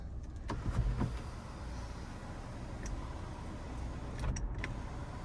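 Motorized sunroof on a GMC Terrain Denali running open and closed, a steady low electric motor hum inside the cabin with a few soft clicks and thumps at start and stop, no talking.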